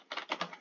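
Several quick keyboard keypresses on a numpad, three or four clicky taps in fast succession, close and fairly quiet.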